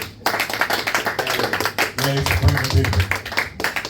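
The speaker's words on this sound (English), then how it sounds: "Clap it up for Kanoa, everybody." A comedy club audience claps to welcome a performer's family, a scattered run of hand claps with a brief drop near the start, while someone talks over the crowd and music or murmuring hums underneath.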